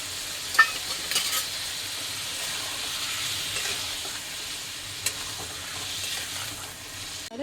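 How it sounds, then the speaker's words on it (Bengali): Spice paste sautés in a pan, a soft continuous sizzle under repeated stirring scrapes, with a few sharper clinks of the spoon against the pan and no talking. "মশলা দিয়ে কিন্তু ভালো করে কষিয়ে নিতে হবে"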